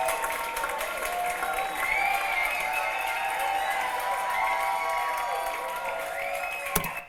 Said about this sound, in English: I've put in the background some crowd noises and cheering